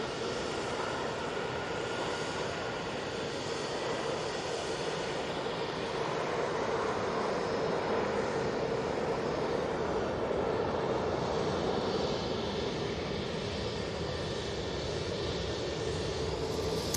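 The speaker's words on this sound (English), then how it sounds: "they're going to have to send it on this TUI off to Zakynthos. This one is going to rotate" A TUI airliner taking off from Manchester for Zakynthos roars loud and close in a dense, unbroken engine rush that holds strong from start to finish.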